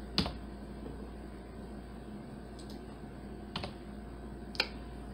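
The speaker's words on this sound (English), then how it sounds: "press insert on your keyboard" Sparse computer keyboard key presses during setup of a Left 4 Dead 2 server: a few sharp, isolated clicks spaced seconds apart over a quiet steady hum.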